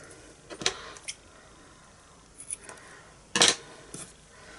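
Scissors trimming the ends of twine during a Christmas craft project, a few quiet, crisp snips close by, with the sharpest cut near the end and no talking.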